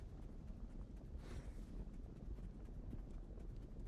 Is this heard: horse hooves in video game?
yes